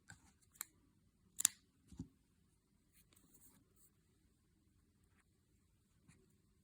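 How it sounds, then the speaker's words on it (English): A few sharp snips of scissors cutting crochet thread while making handmade crochet jewelry, heard as two or three quick close clicks early on and then a faint one near the end, in a quiet room with no talking. "cut the thread."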